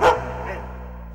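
One sharp dog bark up close at the start, quickly dropping away into a low steady hum that lingers afterward.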